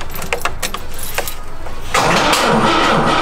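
An old French barn-find car that has sat for years is cranked in the cold. The starter turns over with quick rhythmic churning, and about two seconds in a louder, sustained engine roar takes over. It is close and loud, with no talking.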